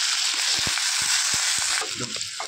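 Chopped ginger, garlic and chilli frying in hot oil, a steady bright sizzle with soft stirring knocks and scrapes from the pan, close and continuous with no talk.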